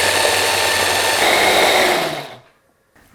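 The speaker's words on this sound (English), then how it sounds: "I'm going to use my Breville immersion blender with this cool little lid that goes right on top of the chopping cup." A Breville immersion blender whirs steadily at medium speed through a garlic avocado dip in its lidded chopping cup, a loud continuous motor drone that runs for about two seconds, then cuts off and falls quiet.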